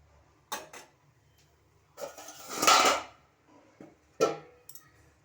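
A metal lid set down over a pot of simmering meat in a home kitchen, a few short clanks and scrapes spread over several seconds, close and fairly quiet, no talking.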